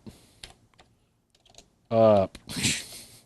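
Clattery plastic key presses on a TRS-80 Model 100 laptop keyboard, a few sparse clicks and then a quick cluster, close up, with a brief voice cutting in between.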